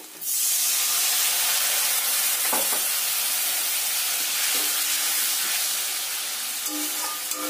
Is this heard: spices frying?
yes